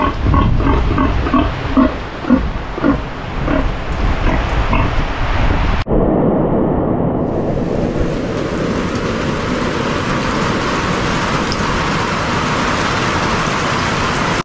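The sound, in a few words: pigs grunting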